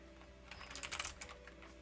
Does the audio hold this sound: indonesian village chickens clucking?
no